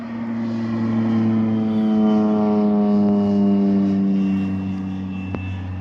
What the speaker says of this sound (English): the airplane's out here near the field spraying some kind of poison